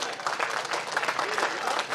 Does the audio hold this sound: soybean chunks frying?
no